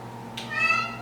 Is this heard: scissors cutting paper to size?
no